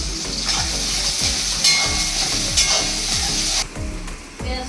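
Onions sizzling in a pan with salt added, a steady loud frying hiss broken by repeated rhythmic scrapes of a spatula stirring against the metal, the sizzle dropping away near the end.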